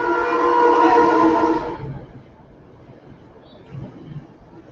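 A passing train, heard as a loud horn-like tone for about a second and a half that then cuts off, leaving faint background rumble.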